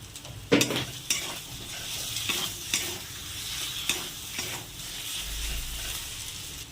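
Tomatoes tipped into spices frying in a pan for a mutton curry, then stirred: a sharp sizzle burst followed by repeated scraping stirs over a steady crackling fry, close and without speech.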